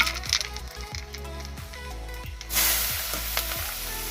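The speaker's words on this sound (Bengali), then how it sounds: "ফোড়নে আমি শুকনো লঙ্কা 5 ফোড়ন আর পেঁয়াজ দেবো।" Dry chilli, five-spice and onion sizzle loudly in hot oil for a rohu fish curry, with a steady hiss broken by regular scraping stirs, the frying swelling brighter near the end.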